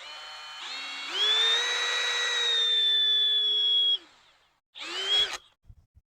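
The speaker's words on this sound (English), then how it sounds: "Line up the drill bit with the next spot." A cordless drill, its battery running dead, whirs up in pitch and runs steadily for about three seconds during repairs on a 1963 Galaxie, stops, then gives a second short burst before a few small clicks.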